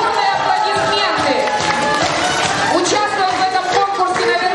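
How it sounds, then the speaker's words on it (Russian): A summer camp show audience claps and cheers loudly, with children shouting and crowd babble mixed into the sustained noise. "Игорь, ваши бурные аплодисменты."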